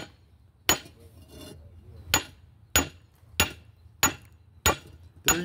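A hammer striking rock to crack it open, six sharp separate blows spaced roughly half a second to a second apart, close and loud with quiet gaps between strikes.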